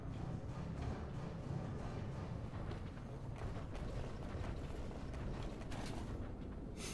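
Steady mechanical grinding and creaking from a wrenching mechanism in the Duke Nukem Forever video game, a continuous dense rumble with faint ratcheting texture throughout, no voices.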